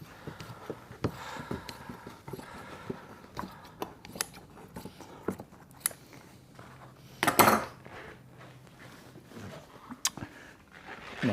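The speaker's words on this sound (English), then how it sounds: "I'm going to trim off this foam here, because quite frankly it's tatty" Tatty upholstery foam is trimmed off a chaise with scissors or a blade, making a run of close, irregular snips, clicks and light metallic taps with one louder rustling burst partway through.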